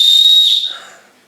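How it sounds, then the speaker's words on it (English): A small emergency whistle from a 10-in-1 survival multi-tool gives one loud, shrill, steady blast lasting about half a second, then trails off quickly into quiet. "Little emergency whistle there."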